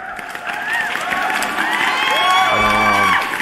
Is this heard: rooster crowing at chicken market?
no